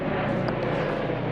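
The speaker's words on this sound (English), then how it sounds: "the helicopter's out." A helicopter flies overhead in Moston, heard as a steady, continuous engine and rotor drone that fills the short stretch without breaks, moderately loud with no voices.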